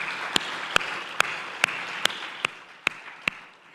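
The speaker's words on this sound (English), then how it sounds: "Please give everybody another big round of applause." Applause at an awards ceremony, a dense wash of clapping from the audience with a regular series of loud, sharp claps standing out near the microphone, gradually fading.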